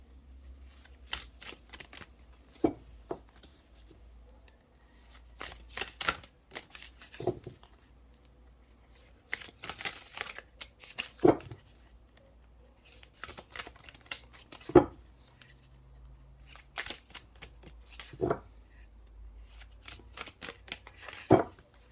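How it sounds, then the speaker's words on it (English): A deck of oversized oracle cards is shuffled by hand in repeated bursts of riffling and flapping card noise, with quiet gaps between bursts. The shuffling is close and crisp, and there is no talking. "These cards are a little big. Let's see if I can shuffle them"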